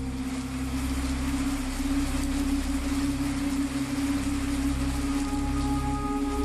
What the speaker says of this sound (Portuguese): E quando chove, chove forte.